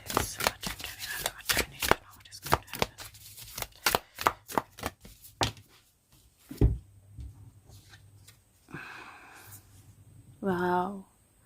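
Tarot cards from a Star Seed deck are shuffled and drawn, a quick run of crisp riffling snaps and slaps close by, then a pause and a soft card slide, with a voice talking over the end.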